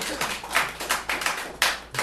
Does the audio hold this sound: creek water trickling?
no